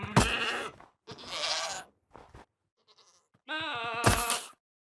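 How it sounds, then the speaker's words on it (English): Several Minecraft goat bleats in a row, loud and close, with short pauses between them and a few quieter clicks and rustles in a gap. "And new sounds for goats"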